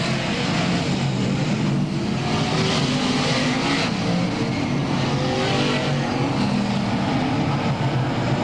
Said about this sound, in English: Billy Decker and Brett Hearn now staging a 2-car breakaway at the front of the field.